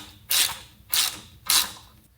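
A bolt is tightened on a Blue Ox base plate during installation on a 2025 Jeep Grand Cherokee, with three distinct close ratcheting bursts in an even rhythm, separated by brief quiet gaps.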